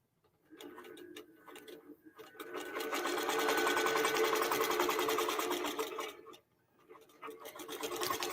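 A QBOT quilting machine stitches line quilting on a mini-tote, its needle running in a rapid, steady mechanical rhythm that speeds up, holds for several seconds, pauses briefly, and then starts again, heard up close with no talking.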